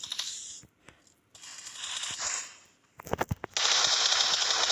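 Bursts of video game gunfire, a rapid machine-gun-like rattle around the middle followed by a sustained loud blast of noise, interspersed with quieter gaps.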